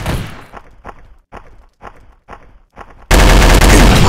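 Gunfire in a mobile first-person shooter, a run of evenly spaced sharp shots about every half second, followed by a sudden loud sustained burst of blasting noise.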